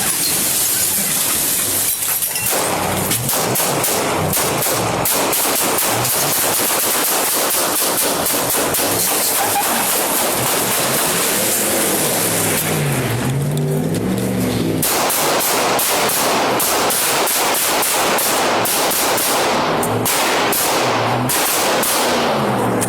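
A police shooting inside a mall, with loud rapid bursts of gunshots in repeated volleys, sharp and close, separated by a short lull near the middle, with no clear speech.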